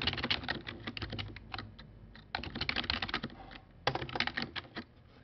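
Typing on a computer keyboard: quick, light clicking keystrokes in three bursts separated by short pauses, close and fairly quiet, with no talking.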